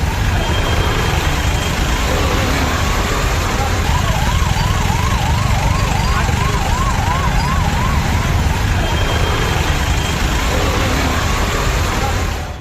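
On a rain-soaked Chennai highway jammed with traffic, an ambulance siren wails faintly and at a distance for several seconds, half buried under heavy rain and road noise.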